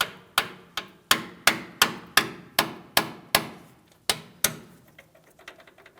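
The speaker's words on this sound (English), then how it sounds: "We'll give this a couple light taps." A small hammer taps a stuck brake hose bracket on a 2007-2014 GMC Sierra 2500 HD, about eleven sharp metallic strikes in a fairly even rhythm, each ringing briefly, followed by a few faint clicks, close up.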